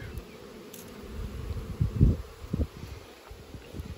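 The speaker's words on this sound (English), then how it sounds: "lots of bees in this box." Honeybees in an opened hive box, a dense close buzzing and droning with scattered louder bursts as bees move near, steady throughout with no talk.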